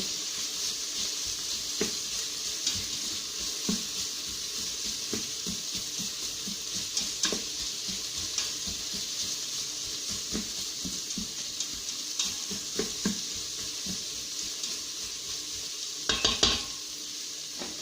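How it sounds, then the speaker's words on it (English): Turkey meatballs sizzle steadily in an Instant Pot while a utensil stirs them, giving a constant hiss broken by scraping clicks and taps, with a louder clatter near the end and no talk. "Give this a quick stir around."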